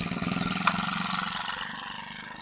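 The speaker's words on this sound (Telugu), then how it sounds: "చూడండి ఇంజన్ నడుస్తుంది చూడండి ఫ్రెండ్స్ ఇంజన్ నడుస్తుంది" A Honda GX25 small engine, repaired after a piston problem, runs at a steady idle close by, with an even, continuous mechanical hum and one brief sharp click early on.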